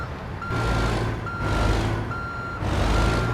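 Reversing beeps from a truck in American Truck Simulator, four loud, evenly spaced long beeps over a low rumbling engine idle, with no talk.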